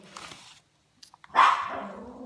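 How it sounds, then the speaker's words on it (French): Dogs barking at a village home: a few faint sounds, a short quiet gap, then a loud, close burst of barking that trails off with some growl-like rumble. "Et mes chiens ne sont pas contents."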